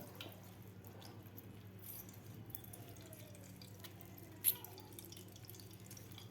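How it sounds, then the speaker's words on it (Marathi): Water from strained yogurt squeezed by hand through a cloth bundle, made for saffron pistachio shrikhand, drips and trickles faintly and close by in a quiet room, with one sharper tap partway through. "जेवढं निघल तेवढं आपल्याला असं दाबून पाणी काढून घ्यायचं आहे यामधलं"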